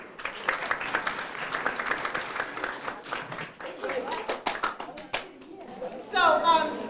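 Audience applause at an event honoring women in various fields, with scattered handclaps thinning out over several seconds as chatter and voices rise in the room, a person speaking near the end.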